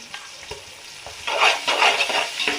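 Mutton and spices being stirred in a pan for coconut mutton biryani. Soft taps and scrapes at first give way to louder bursts of sizzling and spoon scraping in the second half, with no voices.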